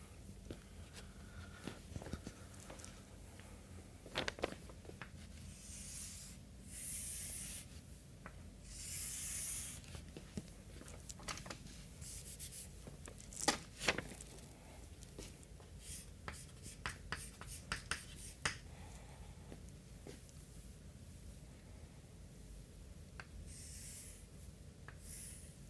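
Pen or marker scratching and tapping as a truss diagram is drawn by hand for a method-of-sections explanation, steady close scribbling strokes with occasional sharper taps and brief pauses, no talking.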